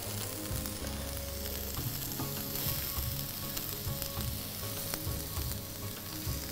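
Masala chops being mixed with a yogurt gravy in a frying pan, giving a continuous loud sizzle and frying crackle with occasional stirring scrapes throughout, with no voices.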